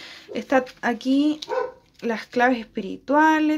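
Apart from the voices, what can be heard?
small dogs barking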